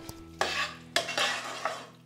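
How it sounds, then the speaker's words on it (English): Pasta with peas, pancetta and Parmesan stirred in a pan, giving three distinct scraping, swishing strokes over a faint background hum, close and clear, with no talking. "And give it a good stir together."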